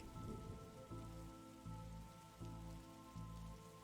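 Steady rain falls in The Darkside Detective video game, a soft continuous patter beneath a low looping musical drone with periodic swells, no voices present.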